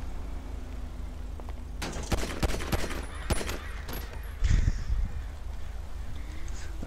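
Burst of gunshots in a shootout in the LSPDFR police game mod, several sharp cracks clustered close together mid-clip, then one heavier blast, over a steady background hum.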